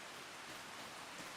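Rain falling in Farming Simulator 25, a soft, even hiss of drops with no breaks, faint and constant through the brief moment.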